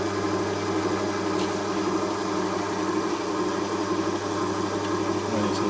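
Key cutting machine shaving the top layer of chrome off a key, a steady close mechanical whir and hum with a faint grinding edge, continuous throughout.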